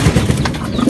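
Racing pigeons cooing in a loft after returning from a training flight in Bocaue, with soft low coos repeating through the second, close by and steady, with no talk.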